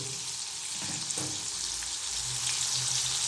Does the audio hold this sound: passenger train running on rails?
no